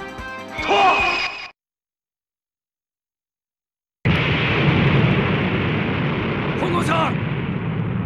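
Atomic bomb detonating in the Kamen Rider V3 game for PS1: a loud, sustained roaring blast that rushes in after a stretch of dead silence and rumbles on to the end, with a strained vocal cry just before the quiet.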